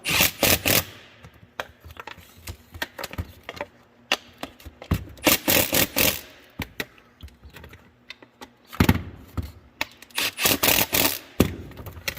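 Wheel bolts on a planter's closing wheel upgrade being tightened with a wrench, giving repeated clicking, scraping metal bursts in several clusters, close and fairly loud, with no talking.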